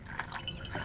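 A homemade vinyl-cleaning solution of denatured alcohol and paint thinner is poured and splashes, giving a brief, soft, close liquid trickle and splatter.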